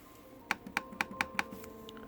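Five crisp, evenly spaced keystrokes clack on the non-backlit keyboard of an ASUS VivoBook X509 laptop, close-up and clear over a faint steady hum.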